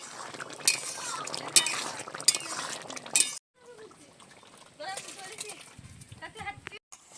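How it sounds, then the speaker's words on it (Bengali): Potato and soybean curry stirred in a pot, with light metallic clinks of a spoon against the pot and soft liquid sloshing, all under continuous talking. "একটু নেড়ে চেড়ে নিচ্ছি।"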